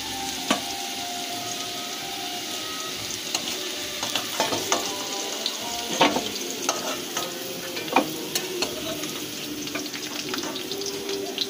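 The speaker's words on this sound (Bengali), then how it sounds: "এরপরে আলু ভাজা হচ্ছে" Steady sizzling of potatoes frying in hot oil, with occasional stirring scrapes and clinks of a utensil in the pan.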